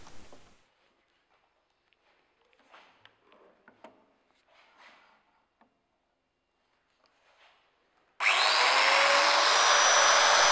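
A domino joining machine cuts solid wood for furniture. After quiet handling clicks and taps, the loud steady whine of the motor starts suddenly and runs unbroken to the end.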